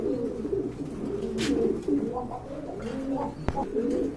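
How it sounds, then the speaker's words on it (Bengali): Breeding pigeons kept for sale coo in repeated low, throaty rolls, close and steady, with one sharp click near the end. "এই যে দেখেন সম্পূর্ণ রানিং ডিম বাচ্চা করানো কবুতর"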